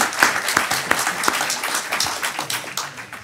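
Audience applause at a book-festival reading and interview, a dense steady patter of many hands clapping close by, with sharper individual claps standing out, sustained throughout without talk.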